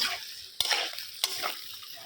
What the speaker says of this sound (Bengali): এবার এই খয়রা মাছ ভেজে রাখছি